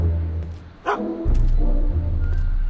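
Einstein the dog in the Back to the Future video game gives a short yelp and whimper, then a burst of loud close barks over a low hum.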